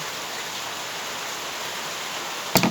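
Steady morning rain falls in an even broadband hiss that holds throughout, with a brief louder burst near the end.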